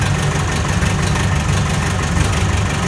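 A John Deere-style farm tractor, 986 or 685 model, idles in cold weather, its steady low engine rumble holding a constant, unbroken chug throughout, close and loud with no speech.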